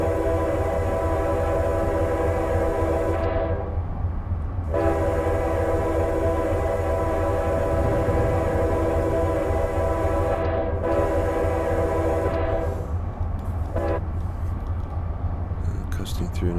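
A train coasts through a station in a train simulator game, with a loud, steady engine drone and rail rumble, layered horn-like tones that cut out briefly a few times, and a voice talking over it.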